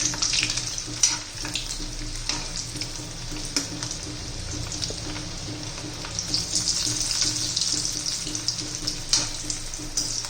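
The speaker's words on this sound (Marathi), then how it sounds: "आपण आता तळून घेऊया हे पहा तेल गरम झालेलं आहे" Potato roll samosas fry slowly in hot oil over a low flame, giving a dense, continuous bubbling sizzle with occasional soft clicks, close and steady throughout.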